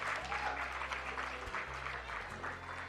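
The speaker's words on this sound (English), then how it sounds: "Now that really deserves a big round of applause" An audience at an Embassy of India event in Kuwait gives a sustained round of applause, dense steady clapping from a moderately sized crowd heard at a slight distance, with a low hum beneath.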